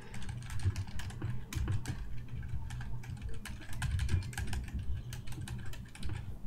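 Note-taking on a computer keyboard, a steady stream of quick, close key clicks with short pauses between bursts, under a low background hum and with no speech.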